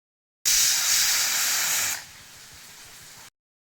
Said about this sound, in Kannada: ಅದನ್ನು ಇವಾಗ ಕುಕ್ಕರ್ಗೆ ಹಾಕ್ಕೊಂಡು ಒಂದು 4 ವಿಸಿಲ್ನ ಹಾಕಿಸ್ಕೊಳ್ತೀನಿ